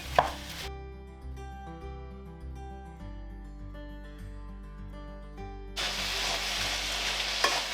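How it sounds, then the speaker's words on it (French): Rinsed quinoa frying in a non-stick pan gives a loud, bright sizzle at the start and again toward the end, with steady background music running underneath throughout. "je vais faire revenir le quinoa dedans, que j'ai rincé préalablement"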